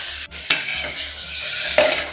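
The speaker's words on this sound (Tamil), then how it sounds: "எல்லாம் வதங்கட்டும். ஃபைன் சாப் மாதிரி ஃபைனாக வதங்கட்டும்." Tomatoes sauté in a pan for Dindigul-style biryani, a close steady sizzle broken by a couple of sharp utensil scrapes and clinks against the pan over a couple of seconds.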